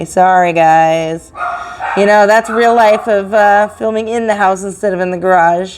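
Dogs bark, yip and whine inside a house, the harsh harmonic cries coming in repeated bursts close by and mixed in with a person talking.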